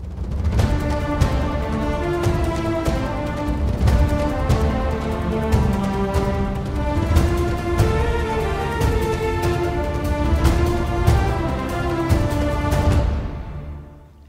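Cinematic adventure action orchestral track with full strings and driving percussion, rhythmic hits pulsing under sweeping sustained chords, loud and dense throughout before fading out at the end.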